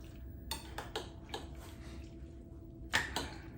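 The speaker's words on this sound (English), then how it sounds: "Give it a stir." A spoon clicks against a bowl while stirring shrimp, tuna and crab ceviche mixed with mandarin pieces. The clicks come as a handful of soft, separate, close taps over a quiet background, with no talking.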